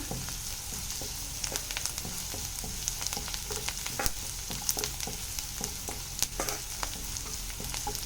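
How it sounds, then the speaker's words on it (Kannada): Chopped onion sizzling and frying in a pan for a paneer masala gravy, a steady crackling hiss with occasional sharper pops and faint stirring scrapes, close and continuous with no talking. "ನೋಡಿ ಇದು ಚೆನ್ನಾಗಿ ಫ್ರೈ ಆಗ್ತಾ ಇದೆ ಇವಾಗ"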